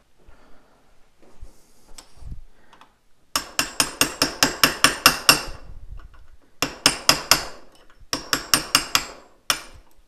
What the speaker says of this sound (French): je vais venir la tapoter doucement